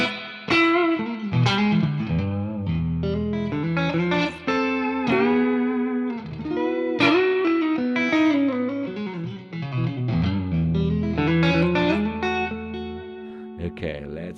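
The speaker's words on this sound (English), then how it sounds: "now I can put the reverb to give the complete ambient effect" An electric guitar played through a Fractal Axe FX III with reverb added for an ambient effect rings out in sustained, effected notes and chords, loud and continuous over about fourteen seconds.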